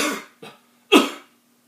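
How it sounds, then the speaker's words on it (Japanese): Three short coughs from one person, close and fairly quiet: a first longer cough, a small one, then a sharper, stronger cough, with nothing else around them. "咳をしますよね。"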